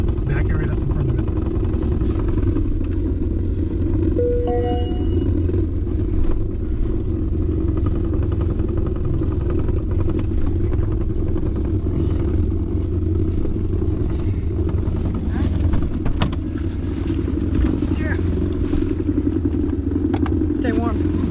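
Kubota tractor backing up on a farm in cold, windy weather, its steady low diesel rumble running loud and close for the whole stretch, with voices talking over it.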